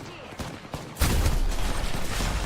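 Gunfire in an Apex Legends collegiate Contenders League esports match, a sudden loud burst of shots that erupts after a second of quieter ambience and keeps up as dense, sustained firing.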